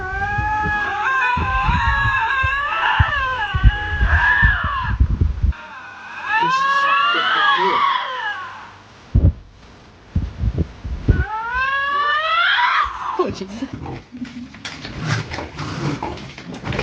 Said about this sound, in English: This guy had to pull over to watch these two lynxes yell at each other.